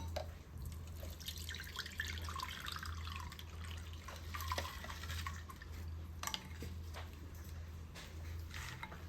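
Homemade passion fruit and ginger juice strained after water is added: a steady, close trickle of liquid running through a strainer, with occasional drips, continuing throughout without talk.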